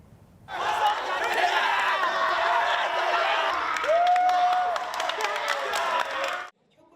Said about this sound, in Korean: 방망이를 휘두르며 울려 퍼지는 함성과 격렬한 타격 소리가 체육관을 뒤흔드는